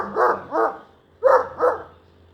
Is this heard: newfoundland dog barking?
yes